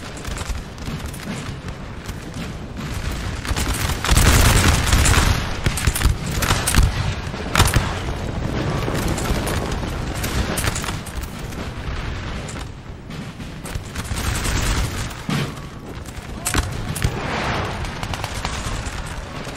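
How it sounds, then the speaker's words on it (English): Artillery and massed musket fire roar through a Napoleon: Total War recreation of the Battle of Borodino, a dense, loud, continuous barrage with heavy booms and crackling volleys rolling throughout, no voices. "There is artillery."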